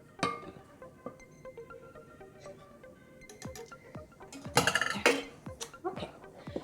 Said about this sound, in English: now we're gonna get ready to mix the liquid ingredient inside the dry ingredients. And here, we're not gonna use a whisk, we're gonna use a wooden spoon